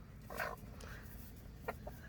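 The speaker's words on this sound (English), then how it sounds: "I do have a total of 13 chickens." A backyard flock of thirteen chickens, eleven hens and two roosters, gives a couple of short, faint clucks. The clucks stand out against a quiet background.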